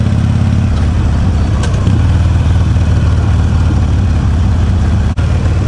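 A dirt bike fitted with street tires rather than dirt tires runs loud and close, its engine holding a steady idle throughout with a brief dip near the end.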